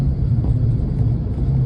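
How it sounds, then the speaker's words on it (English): A supercharged Ford Mustang Cobra being driven, heard as a steady, loud engine rumble with a low droning whine running unbroken throughout, no voices. "When it really gets in the boost, you get that classic Terminator whine"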